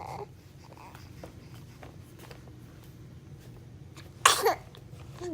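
A single sharp sneeze bursts out about four seconds in, loud against a quiet backdrop of low steady hum and faint room noise.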